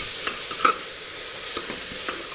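Sliced onions sautéing with salt in a pan while a potato and capsicum masala is prepared, giving a steady soft sizzle with light stirring scrapes and an occasional brief clink.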